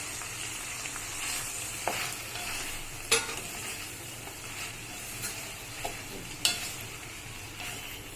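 Idli pieces are stirred into hot tempering in a pan, giving a steady sizzle of frying under repeated scraping strokes of a spoon, with a few sharper clinks and taps against the pan.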